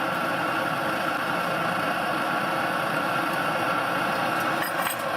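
A SEVA 123R clone liquid-fuel camping stove burner roaring at full open, a loud, constant, broadband rushing hiss that holds steady without variation throughout.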